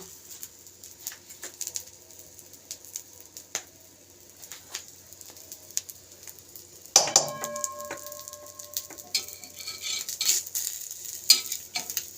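Fish slid into a pan for a chicken keema, egg and bread snack crackles faintly at first, then the frying sizzle rises louder and busier about halfway through, with light clinks of utensils.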